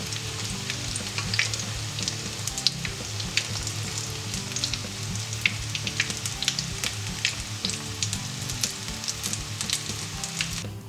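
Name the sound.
eggplant and mushroom meatballs frying in hot oil in a pan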